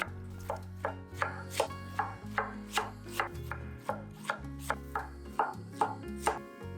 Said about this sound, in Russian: Капусту тонко шинкуем.